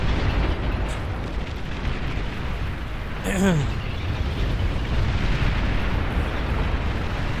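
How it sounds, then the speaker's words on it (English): Bombing-run explosions rumble in a strategy video game, with a low continuous boom, a brief bright burst near the middle, and speech running over it. "Did a couple little bombing runs because we can there."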